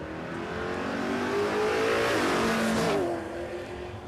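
A manual drag racing car launches hard off the start line at a dragstrip, its engine revving loud and rising through the gears with a brief bogging dip mid-run, alone without talk.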